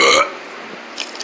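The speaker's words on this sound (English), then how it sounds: "No, I think that was a Belch." A short, loud belch, voiced for an animated alien character in a TV spot, opens and fades quickly into quiet background with faint trailing sounds.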